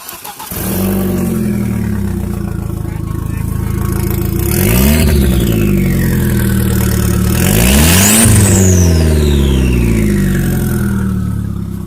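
Audi A4 1.8T fitted with a test pipe downpipe that is not yet joined to the rest of the exhaust idles close up, then blips through two sharp revs that climb and fall back before settling to idle again.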